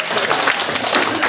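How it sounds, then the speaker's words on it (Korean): A seated audience at a church family-worship class breaks into a short, loud, dense burst of applause. "박수 한번 쳐줘요."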